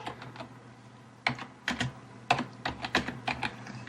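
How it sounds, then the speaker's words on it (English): Keys clack on a computer keyboard in irregular clusters of quick taps, close and fairly crisp against a low background hum. "she's typing how do I feel about Coach E"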